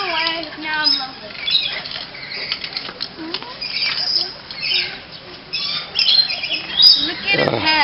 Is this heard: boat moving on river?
no